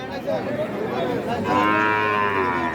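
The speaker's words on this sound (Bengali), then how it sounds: "এটা কোন জাতের গরু রে সাইওয়াল জাতের একটা গরু দেখতে পাচ্ছেন" A Sahiwal cow at a busy cattle market in Comilla lets out one long, loud moo close by, drawn out and rising in pitch over a low murmur of market background noise.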